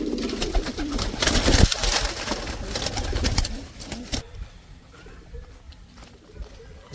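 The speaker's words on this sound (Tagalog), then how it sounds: "Dami naman tayong kalapate." Pigeons cooing in a rooftop coop, soft throaty calls among rustling and fluttering, with a voice speaking at moments.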